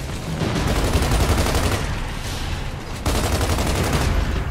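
Rapid sustained gunfire from the video game Gears of War 2, dense automatic bursts firing continuously and loudly with a brief break midway, no speech over it.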